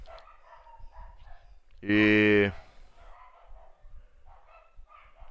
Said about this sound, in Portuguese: tá cachorrada ali fora, tá uma beleza